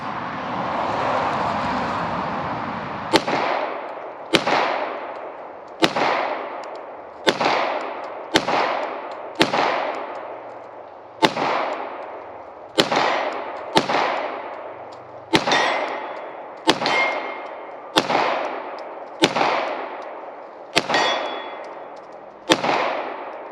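A Beretta M9A1 pistol fires about fifteen sharp, loud rounds at an irregular, fairly quick pace, each crack ringing briefly into a decaying echo.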